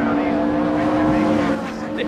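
British touring cars race at Oulton Park in the 1997 championship, engines droning in a strained, rising howl at close range, with a commentator's voice running over the racket.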